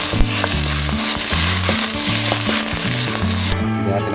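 Frozen squid frying in oil for adobo, a loud crackling sizzle that carries on steadily over a rhythmic low tapping or knocking beat, with the frying dropping away near the end.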